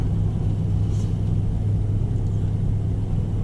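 Ram 1500 Hemi half-ton truck towing a 25-foot travel trailer, a low steady engine rumble with road noise heard from inside the cab, constant and moderately loud throughout.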